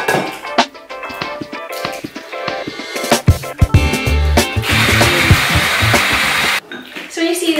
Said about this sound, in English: we're going to crack the eggs into a jug and whisk them just to bring them into a smooth consistency